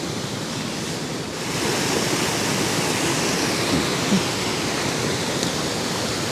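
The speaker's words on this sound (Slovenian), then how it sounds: "sami slapiči lepo napravljeni" Small waterfalls on the Bistrica stream roar in a dense, steady broadband rush, close and loud throughout, with no voices.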